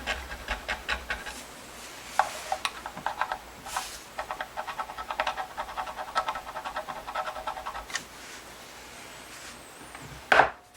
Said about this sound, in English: I'm going to scratch up this top of the pot so I can solder these grounds to it.